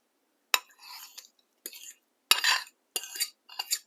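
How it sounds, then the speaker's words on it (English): A spoon stirring hummingbird cake batter with coconut and frozen banana in a bowl, heard as five short scraping, clinking strokes with brief pauses between, close and fairly quiet, with no talking. "Give that a bit of a stir."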